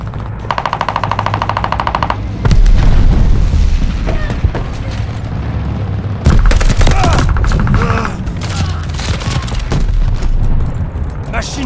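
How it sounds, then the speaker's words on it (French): Call of Duty: Vanguard multiplayer gunfire: rapid automatic bursts crackle alongside heavy booming shots and explosions, loud and close, with in-game voice callouts talking between volleys. "Je peux pas bouger. Je subis des tirs."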